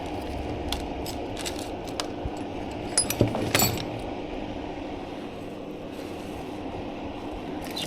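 Small new OEM screws rattling and clinking as someone rummages for them in a workshop during a Suzuki DRZ400SM engine rebuild, a steady soft jangle with a few louder metallic clatters midway.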